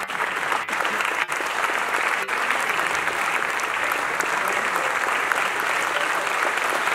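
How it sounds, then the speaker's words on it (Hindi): Loud, dense audience applause at an awards ceremony honouring Ustad Amjad Ali Khan, a steady full-hall clapping that holds throughout without a break. "जोरदार टाळ्या आपण त्यांच्या कार्यासाठी वाजवूया."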